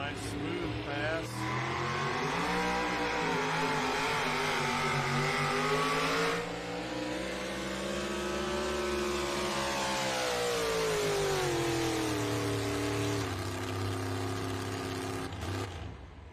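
A pulling tractor engine roars at a pulling competition in Bowling Green, loud and sustained, with the pitch dropping and climbing as the throttle is eased off and opened again, while an announcer talks over it.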